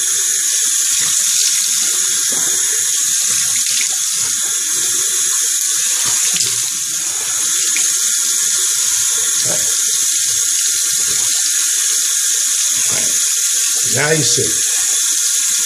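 Tap water runs steadily into a bathroom sink as a man rinses his face after shaving, with splashing and a few spoken words over the flow.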